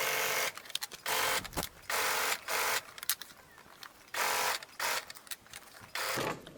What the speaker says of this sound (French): alors piquez le deuxième côté de la même façon